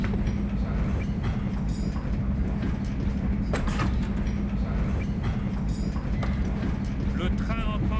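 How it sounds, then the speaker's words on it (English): A train pulling into Salzburg station in the game The Last Express, a steady low rumble of rolling carriages with scattered metallic squeals and clanks, held at an even level throughout. "Le train entre en gare de Salzbourg."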